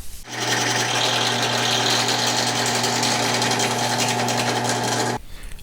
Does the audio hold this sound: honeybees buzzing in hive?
no